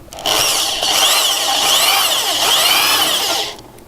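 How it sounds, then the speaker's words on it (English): A hole saw from a 16-piece kit, driven by a drill, grinds steadily through metal for several seconds, a loud, close, continuous whine with shifting squealing overtones, then stops. "We're going to drill another hole"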